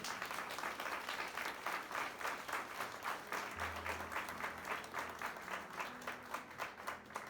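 Church congregation at a Christian sermon applauding steadily, a dense sustained round of clapping from a crowd, continuous and fairly even throughout.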